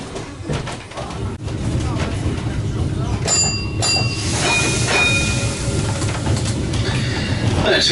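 A Christchurch, New Zealand tram rolls along a city shopping street with a continuous rumbling ride and brief high squeals and hisses midway.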